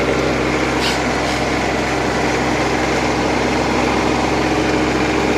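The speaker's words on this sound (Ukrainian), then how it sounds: "і поїхали. Трава вище капота." Tractor pulling a mulcher through grass taller than its hood, a constant loud engine drone with a dense roar of cutting that holds steady throughout, no talk.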